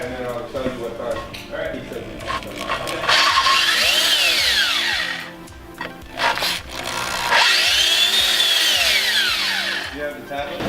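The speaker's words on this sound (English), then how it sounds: "The next step is to drill with a 5/16 drill bit these two holes out" A power drill with a 5/16 drill bit boring two holes in car parts during a supercharged G8 drive shaft loop install; two loud drilling bursts with rising and falling whine, separated by a pause, with some talk.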